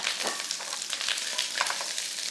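Carrots and cabbage sizzle and crackle in hot chili seed oil, a close, continuous fry with small pops and stirring scrapes, no voices.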